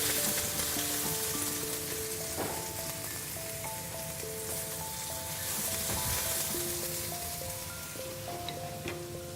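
Onions sizzle in a wok for a vegetarian Nubian stir fry, a steady, close, dense frying hiss that runs throughout, with music playing underneath.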